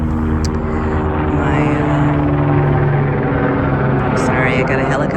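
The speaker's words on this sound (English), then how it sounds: "Sorry, I got a helicopter going by now." A helicopter drones steadily overhead a garden with a constant low rotor hum, moderately loud and unbroken for the whole stretch, with no talking.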